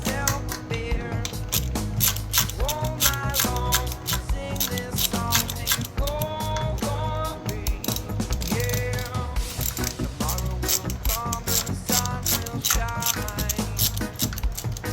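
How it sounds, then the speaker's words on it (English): A 70cc pitbike's brake master cylinder is unbolted from the chassis with hand tools, giving a continuous run of close ratchet clicks and metallic mechanical ticking that stays busy and even throughout. "So we're gonna unbolt the master from the chassis here."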